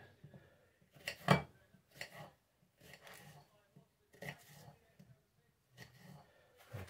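A knife chops an onion for a lasagne, giving short, clustered knocks on a board separated by pauses, moderately close, with some faint voice between the cuts.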